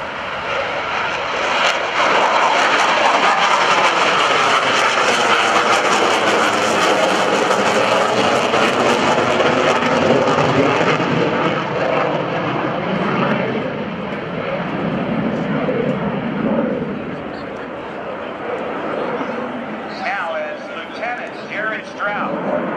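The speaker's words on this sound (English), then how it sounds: "Watch him touch down, watch the throttles come forward, and he's got the power, and he goes right back up into the air." An F/A-18C Hornet demonstration jet at the 2012 NAS Oceana airshow touches down and throttles straight back up, a loud roaring jet sweeping past with shifting pitch before fading into the distance, with an announcer talking over it.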